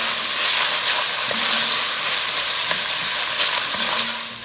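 Sliced onion cooking down in a pot with crisping ham, sizzling loudly and continuously with a dense hiss and occasional stirring scrapes.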